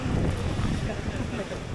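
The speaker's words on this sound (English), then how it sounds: "it's so windy that my hair keeps blowing in my face" Loud, constant wind buffets the microphone with a roaring, rumbling rush throughout, no pauses.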